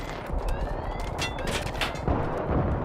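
Rapid gunfire in the PC game Battlefield 3 with an AEK-971 rifle, dense bursts of shots crackling over continuous battle noise, loud and close, with no speech.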